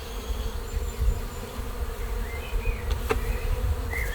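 Honeybees buzzing around an open hive during a spring frame inspection, a steady close drone with individual bees flitting past the microphone, no talking.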